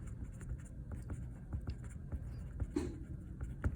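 A pen scratches out a handwritten question on paper in soft, close strokes, quiet and intermittent, with faint murmuring alongside.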